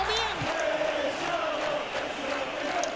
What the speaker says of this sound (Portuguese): Bem aplaudido aí, garoto, pela torcida.